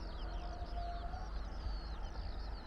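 Birds calling outdoors at a summer solstice gathering, thin chirps and whistles scattered over a steady low rumble of wind and distant crowd noise.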